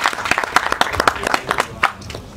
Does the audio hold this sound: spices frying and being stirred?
no